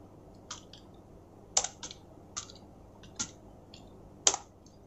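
An address being typed on a computer keyboard, with sparse separate keystrokes and a few sharper clacks spaced unevenly, close and clear against a quiet background with no talking.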